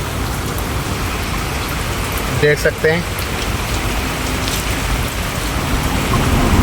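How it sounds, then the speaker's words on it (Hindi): Heavy rain pours down steadily in a village in Sindh, a dense, constant hiss close by, while someone speaks briefly over it. "बारिश बहुत तेज़ आ गई है हमारे गांव में"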